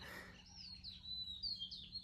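Small birds chirp and twitter at dawn in a jungle in quick, high runs, faint and somewhat distant over a quiet background hum, with no voices.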